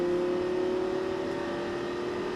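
A Lamborghini engine on a stunt-driving course holds a steady, loud drone with a strong sustained tone, the throttle building gently and evenly with no talk over it.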